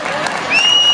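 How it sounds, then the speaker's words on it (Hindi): An audience at a political rally applauds for three MLAs, a loud burst of clapping that swells toward the end with a voice mixed in and a high whistle-like tone rising over the crowd. "हम लोग ये 3 एमएलए के लिए सब लोग खड़ा होकर एक बार जोरदार से तालियां हो जाए।"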